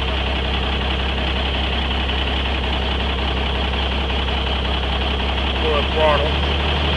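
A 1956 White 9000TD truck engine idles steadily after a hot start, a low, even diesel rumble that holds at a constant level throughout, with a faint brief squeak near the end.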